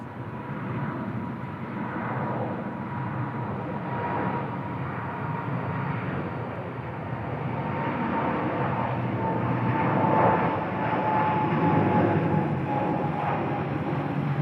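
A KLM Boeing 777-300ER airliner on the runway at Bangkok gives a steady, broad jet engine roar that holds at a moderate level and swells slightly toward the end, with no talk over it.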